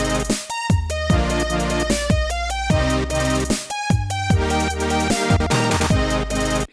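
A future bass drop programmed on a PO-33 pocket synthesizer pounds along in loud, punchy bars of heavy kicks, chopped chords and bright stabs, with a brief voice at the very start.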